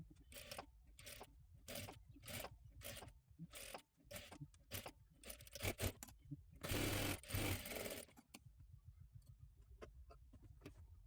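A sewing machine stitching a princess blouse runs in quick rhythmic bursts of mechanical whirring and ticking, with short pauses between runs and a louder stretch near the end, close by and alone.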